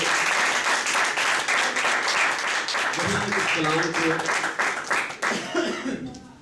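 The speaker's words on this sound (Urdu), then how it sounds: "خدا روح القدس کے لیے زوردار تالیاں بجائیں گے" A church congregation claps loudly and steadily for the Holy Spirit during a Saturday worship service, dense applause filling the room, with someone speaking over it partway through as the clapping thins toward the end.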